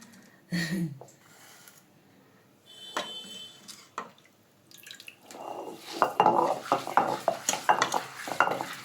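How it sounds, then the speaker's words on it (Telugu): Soaked moong dal being ground by hand on a stone at home, heard as uneven scraping, knocking and wet grinding that grows louder and busier toward the end, with a few clinks of utensils. "అవి రుబ్బి పెసర పునుగులు పులుసు పెడదామని రుబ్బుతున్నాను మిక్సీలో అయితే బాగోదు"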